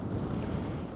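Steady, heavy wind buffets the microphone with a constant low roar on a mountain summit hike, no other sounds standing out.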